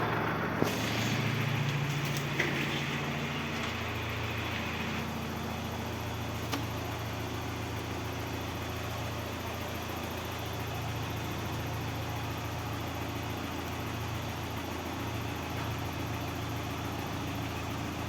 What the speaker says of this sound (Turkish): Şimdi aracımızı çalıştıralım.